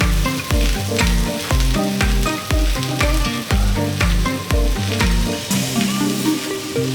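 Lamb chop frying in oil with garlic and a Bhutanese spice blend, a loud close sizzle under a rhythmic musical beat that pulses steadily throughout.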